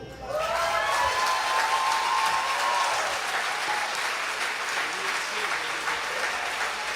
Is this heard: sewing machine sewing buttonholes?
no